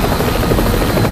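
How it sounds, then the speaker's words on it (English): Helicopter in the film Jurassic World, a loud, close rotor chop with a throbbing low drone, heard alone for about a second before cutting off abruptly. "And you're sure there's nobody else who can fly a helicopter?"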